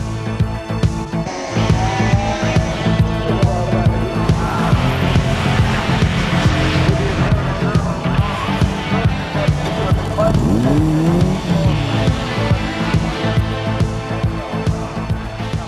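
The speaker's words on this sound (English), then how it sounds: "a little dab on the brakes to slow himself down in the middle of the corner, settle the car, and he pulls ahead of Frank." Saloon race cars from the 1992 championship round at Mondello circuit brake and corner in close battles, engines droning loudly and continuously with shifting pitch over a steady roar, under race commentary.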